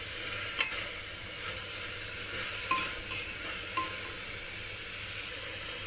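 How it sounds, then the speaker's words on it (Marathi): Peas, cauliflower and potato stir-fried in a pan, giving a soft continuous sizzle with occasional spatula scrapes and light clinks, fairly quiet and close, with no talking. "सर्व भाज्या अगदी 2 ते 3 मिनिटापर्यंत आपल्याला परतून घ्यायचे।"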